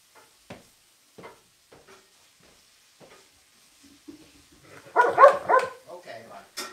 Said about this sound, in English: The dogs are getting into it.